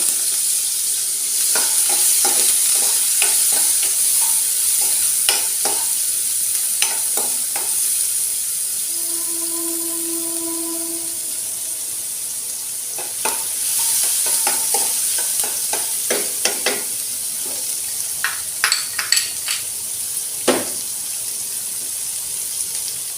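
Onions frying in coconut oil, a steady close sizzle broken by scraping stirs and clatters of a spoon against the pan, with a short beeping tone partway through.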